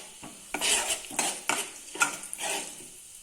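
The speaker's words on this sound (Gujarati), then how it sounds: "હવે એમાં આપણે આખા પાખા ખાંડેલા ધાણા, જીરું અને વરિયાળી એડ કરશું। સારી રીતના આપણે સાતળી દઈશું" Crushed coriander, cumin and fennel seeds sauté in a pan for samosa filling, with a light sizzle and several clinking stirs of a metal spoon against the pan, close and alone.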